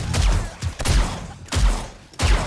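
Gunfire in 7 Days to Die, four loud, punchy shots spaced roughly half a second to a second apart, each with a deep thump and a short decay.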